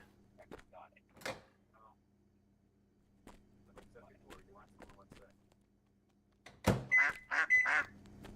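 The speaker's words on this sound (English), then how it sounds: "Yeah, I know, I can hear you, duck." A duck quacks in a few loud, close bursts near the end, after a quiet stretch of scattered soft knocks and rustles.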